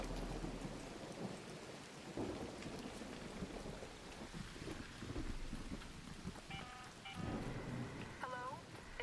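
Thunder and steady rain from an electromagnetic storm in the ARC Raiders video game, with deep rolling rumbles and a constant rain hiss throughout, plus a few brief tonal game sounds near the end.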